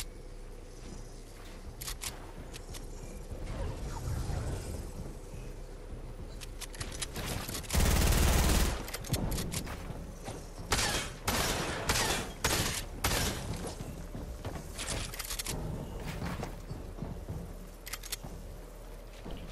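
Gunfire in Fortnite, with bursts of rapid shots and single cracks clustered through the middle and latter part, including one loud blast, over a steady game background.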